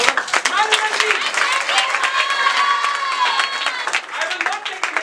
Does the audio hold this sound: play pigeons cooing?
no